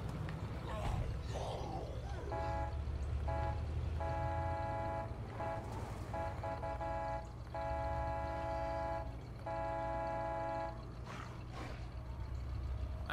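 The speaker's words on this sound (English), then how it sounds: "just go around in our vehicle and just honk the horn" A vehicle horn in the zombie survival game State of Decay honks repeatedly in a rhythmic series of long and short blasts over a constant engine drone, with no talking.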